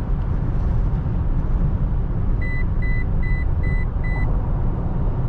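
A 2020 Toyota Tacoma Sport's lane alert chirps five evenly spaced times after the truck touches the shoulder line at highway speed. The beeps are clear but modest, sitting over a steady, loud road and engine rumble inside the cab.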